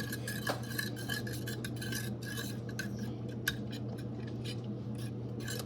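Utensil stirring food in a pan while catfish cooks, with steady scraping and clinking strokes over a constant low stovetop hum, close and moderately quiet.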